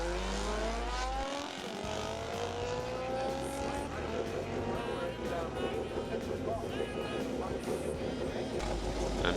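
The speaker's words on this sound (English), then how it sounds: "A nice loud smoky burnout from Ian Wilkins." Drag racing car doing a loud, smoky burnout on the strip, a sustained roaring engine with rising harmonics and a steady wall of noise throughout, dense and close.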